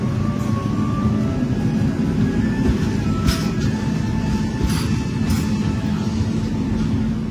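The Ciremai executive-class passenger train in Indonesia, near its Cirebon stop, gives a continuous low rumble and steady rolling hum from on board, with faint higher rattles and no talking.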